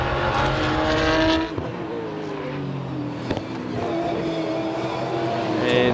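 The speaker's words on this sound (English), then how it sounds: "he's just behind Theo Camburis in that Commodore Sports Sedan, as you can see, going up over that little crest up towards turn 6" Sports sedan race cars, including a Porsche and a Commodore, race around Sydney Motorsport Park. Loud engines scream and rise and fall as the cars pass, and one engine fades while another climbs over the track's crest.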